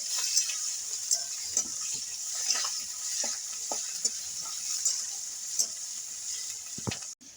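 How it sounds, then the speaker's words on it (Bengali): Chopped onions sizzle steadily in oil in a pan with a bright frying hiss, broken by occasional scraping and stirring clicks from a utensil. "পেঁয়াজটা একটু ভাজা ভাজা করে নেবো"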